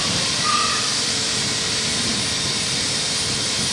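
A steady, broad jet roar fills the whole stretch, loud and unbroken, like an aircraft passing close overhead.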